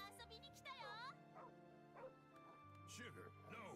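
A dog gives short yips and whimpering barks over background game music and sound effects, fairly quiet, with voices present.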